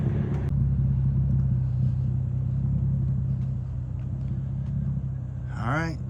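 A car tows a Dodge truck with a failed fuel pump on a tow strap. A steady low engine rumble carries on throughout, with a brief high squeak near the end.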